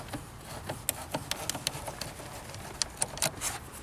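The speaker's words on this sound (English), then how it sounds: "now we're going to take the positive off. Just like we take the negative with a 10 millimeter wrench." Light metallic clicks and scraping taps come from a 10 mm wrench working loose the positive terminal clamp on a car battery, close and fairly quiet, irregular over a few seconds with no talking.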